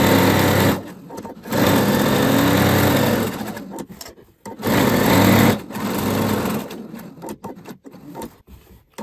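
A sewing machine stitches a handmade fabric bag in loud, close bursts of rapid needle chatter, stopping and restarting several times with brief quiet gaps between runs.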